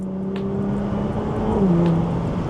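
Steady engine drone with a low sustained tone that dips and rises slightly, heard from inside a 400 hp Audi S4 in dynamic engine and gearbox mode, cruising at moderate revs.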